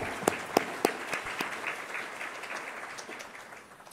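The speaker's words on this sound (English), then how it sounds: "Let's give them another round of applause." Applause at a business luncheon, opening with a few sharp distinct claps and settling into a steady, moderately soft spatter of many hands that thins toward the end.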